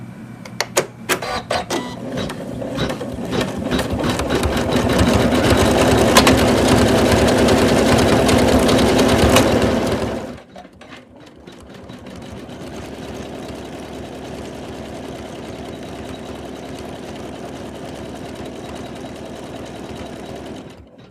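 An embroidery machine stitches decorative squiggles on Santa's beard, a loud, steady needle rattle that stops abruptly at about ten seconds, leaving a quieter hum and faint clicks.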